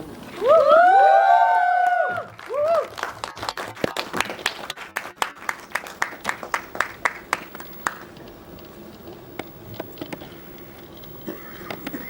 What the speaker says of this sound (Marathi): टाळ्या इतक्या जोरात वाजल्या नाही.